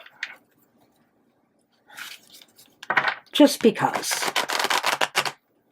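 Tarot cards are shuffled in fast, close, crisp riffling bursts that build toward the end, with a brief spoken word near the start.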